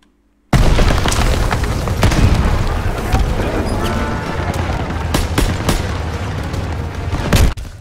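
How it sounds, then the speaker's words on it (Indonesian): Dense gunfire and booming explosions rip through a Call of Duty WWII battle, with continuous loud shots and sharp blasts at close range and a voice faintly underneath. "itu tembakan dari mana itu? Saya bingung itu dia tembakannya dari mana itu."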